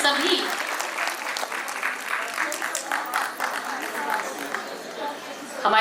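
Loud, continuous crowd applause at a conclave for women insurance agents, honouring the women in attendance, with faint voices mixed into the dense clapping.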